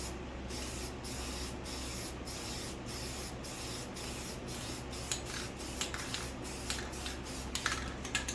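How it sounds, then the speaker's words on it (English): A steady, close hiss of an aerosol spray paint can, held for several seconds with brief interruptions and faint rattling near the end. "On the opposite side, you go ahead and spray the black."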